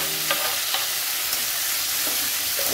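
Tomatoes sautéing in a pan for mint chutney, a dense, bright, steady sizzle with a few soft stirring scrapes spaced through it, close and fairly loud with no one speaking.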